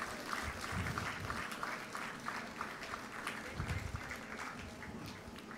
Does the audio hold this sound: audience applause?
yes